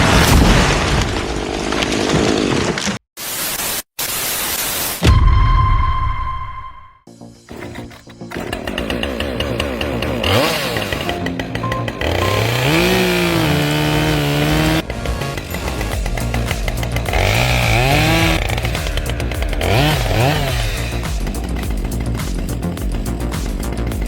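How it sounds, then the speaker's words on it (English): A Husqvarna 545 Mark II chainsaw cuts into a big tree, starting with a few sharp bursts and pauses, then running loud and steady at high revs with its pitch sagging and rising under load. "With the Husqvarna 545 Mark II chainsaw running at"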